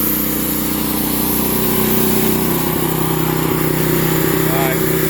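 A sawmill's motor runs steadily at about quarter throttle, a loud continuous drone with a constant hum throughout, with brief faint tonal whines near the end.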